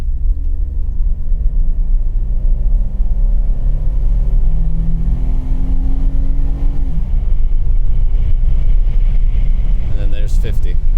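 A Jeep JK on 35-inch tires with no lift, floored at full throttle, its engine droning loud and close with rising harmonics and heavy wind and road rumble throughout.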